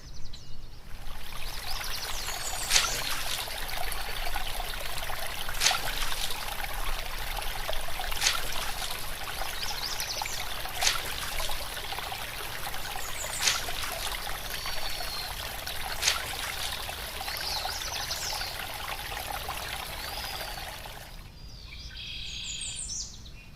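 Water runs and trickles steadily from a tap for about twenty seconds, with bird chirps heard over the flow, before it stops abruptly.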